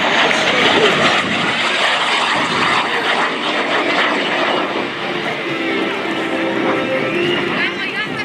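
A Lockheed T-33 Shooting Star jet flies past at an air show with a loud, steady roaring whoosh that holds throughout and slowly shifts in tone, while an announcer talks over the public address.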